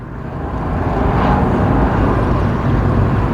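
Rover 25 car with an R3-derived setup, engine running steadily at moderate load while driving, a continuous close low rumble with road noise.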